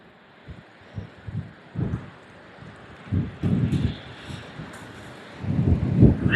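Strong coastal wind in Kent buffeting the microphone in irregular low thumping gusts, sparse at first and then heavier and more continuous toward the end, loud and close.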